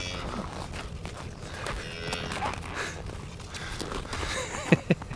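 Mother cow mooing on a farm, a low lowing call against steady outdoor background noise, with brief thumps near the end, no talking.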